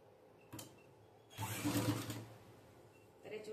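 Sewing machine running a stitch along a cushion cover while attaching a chain: a short whirring burst early, then a longer, louder mechanical stitching run in the middle, and a brief restart at the end.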